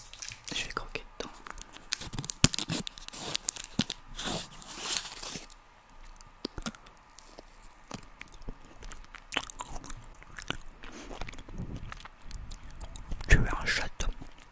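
Bites and chewing on a peanut butter candy bar, close and crunchy, with sharp crisp snaps scattered through and a strong bite near the end, amid soft mouth sounds and quiet whispering.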